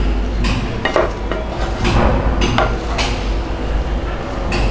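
A spoon stirs tomato rice in a metal pan, giving repeated scraping and clinking strokes at an uneven rhythm, close and fairly loud with no talking.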